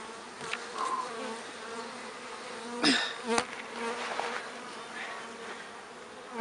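Bees buzz and drone close by, with individual insects darting past and a sharp flurry near the middle, faint and continuous with no talking.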